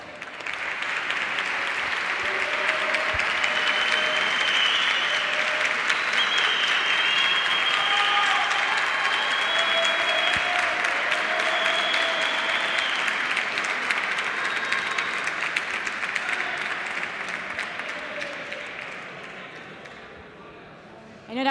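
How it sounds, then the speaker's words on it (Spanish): A large crowd applauds at the CyberOlympics award ceremony of CyberCamp 2018 as third-place winners are honoured, a loud, sustained roar of clapping lasting about twenty seconds before thinning out near the end. "¡Fuerte el aplauso!"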